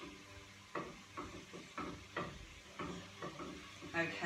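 Chopped tomatoes being stirred in a hot pan for an aubergine and coconut curry, a soft sizzle under repeated scraping and stirring strokes at an irregular pace, close and fairly quiet.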